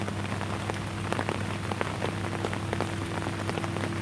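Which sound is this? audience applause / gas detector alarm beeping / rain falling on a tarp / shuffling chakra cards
rain falling on a tarp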